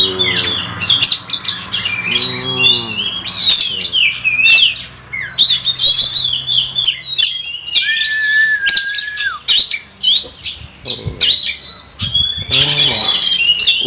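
A kacer, or magpie robin, sings up close in a varied, lively run of sharp chirps, squawks, whistled notes and rapid trills, with one drawn-out steady whistle partway through and a brief flutter of wings.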